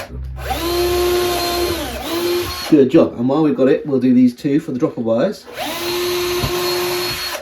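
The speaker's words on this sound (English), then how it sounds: "now we can open the holes up with a slightly wider drill" A power drill whirs steadily while drilling holes in model railway track parts, stops for a few seconds of conversation, then starts up again and runs to the end.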